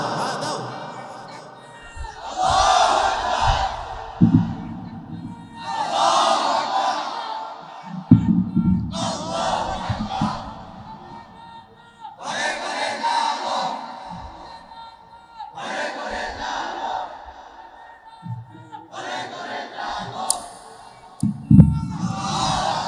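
A crowd at a Bangla Islamic sermon gathering answers a call with loud collective shouts of takbir, about six surging chants separated by short gaps, with a voice leading each call before the group responds.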